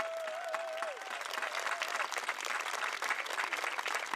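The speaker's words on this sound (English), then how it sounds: "Give them another round of applause." Steady audience applause rings out at a summer outdoor concert by a digital accordion orchestra, dense continuous clapping with a few faint voices and whistles mixed in, moderately distant.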